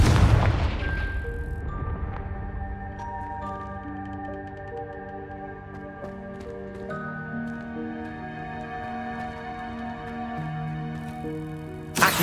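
Confringo, the explosive fire spell in Hogwarts Legacy, goes off as a heavy boom at the start and then rings out as a long, humming magical resonance that fades slowly, ending with a small burst; no one speaks.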